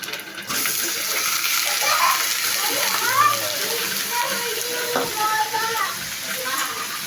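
Stingray pieces land in a hot pan of oil and sizzle with a loud, steady hiss that carries on throughout, while a voice talks over it.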